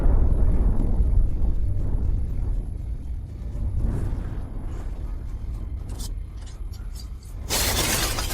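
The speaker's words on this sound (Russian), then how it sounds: "Взрыв. Смещение кармы." An anime explosion effect bursts with a heavy rumbling roar and shattering debris, a dense loud wash that swells and fades in waves, ending in a sharp bright crackling burst.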